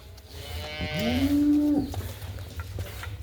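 A heifer moos once, a clear sustained low call in the middle, heard close against a quiet farmyard background with no talking.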